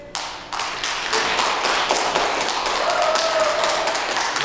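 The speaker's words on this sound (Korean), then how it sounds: "경북 소방 화재 조사의 신을 부르시는 김기범 구미소방서 소방교님을 힘찬 박수로 모시도록 하겠습니다." Audience applause at a disaster-safety talk concert in Gumi, welcoming a firefighter speaker to the stage: dense, steady clapping swells in fast, then holds loud and continuous throughout.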